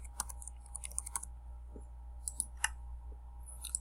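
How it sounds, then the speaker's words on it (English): Keys on a computer keyboard click in short, quiet bursts of typing, with brief pauses between groups of strokes, over a low background hum. "type our name"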